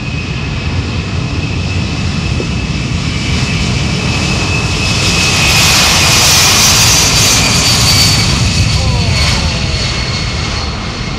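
Loud, steady roar of a C-17's four large jet engines in reverse pushback, swelling to a louder peak midway and then easing slightly, close and powerful.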